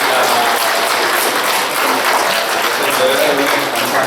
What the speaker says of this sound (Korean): 우리 안수받는 우리 집사님들 박수로